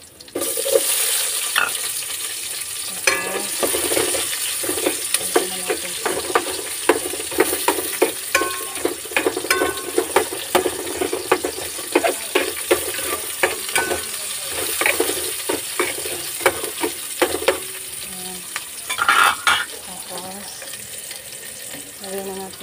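Onion sautés in a frying pan for a monggo dish, a loud, continuous sizzle with frequent scraping stirs and clattering utensil strokes throughout.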